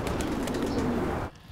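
Pigeons coo in a soft, rolling murmur, the low throaty calls overlapping continuously for just over a second before fading suddenly to quiet.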